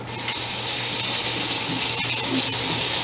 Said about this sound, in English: I'm just gonna rinse off the initial batch of goop under my fingers or on my fingers